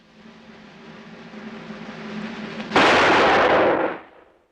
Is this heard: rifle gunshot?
yes